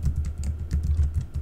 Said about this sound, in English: now I'm going to type in my website